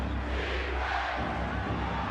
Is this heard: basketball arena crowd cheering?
yes